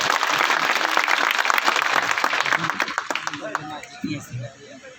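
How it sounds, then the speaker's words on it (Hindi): Crowd applause at the inauguration of a 50-bed civil hospital in Banda, attended by a cabinet minister. It is dense and loud at first, then thins and fades, with voices and a little chuckling mixed in. "खुदे के लिए ताली बजा लो"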